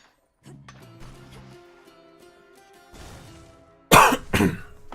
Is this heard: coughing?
yes